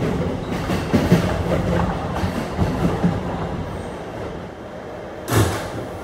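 An R211 shuttle train on the Rockaway line rumbles and clatters from inside the car as it slows into a station, the noise easing toward the end before a short burst of door or brake sound near the close.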